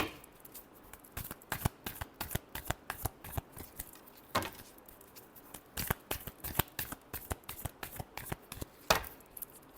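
Tarot cards are shuffled by hand in quick, soft, irregular bursts of flicking and riffling, close and quiet, with short pauses between groups.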